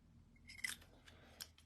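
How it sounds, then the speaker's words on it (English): Scissors cut out a small paper circle for a handmade card, giving a few quiet, close snips and crisp paper rustles against a low background hum. "So we also need this circle cut out."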